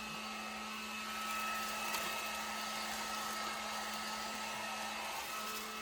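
A heat gun blows hot air in a steady, constant whoosh with a faint electric whine, running without pause and without talk.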